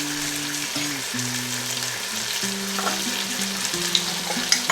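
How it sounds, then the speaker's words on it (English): Kofta curry masala frying in oil, a constant close hiss and sizzle running under a steady tonal background melody, with no talk. "it has started to leave oil and it's well fried"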